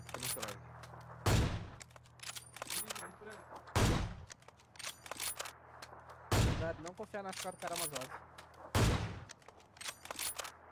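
Rapid bursts of gunfire from a video game shooter crack out in four loud volleys spread across the stretch, with a player talking excitedly in Portuguese between and over the shots.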